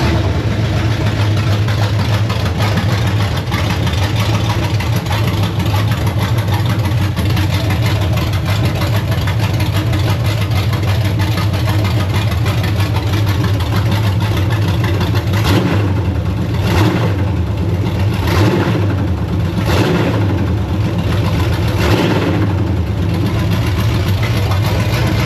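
A 1974 Chevrolet Blazer V8 with a new camshaft rumbling at a loud, steady idle, then blipped through several sharp revs in quick succession toward the end, with no talking.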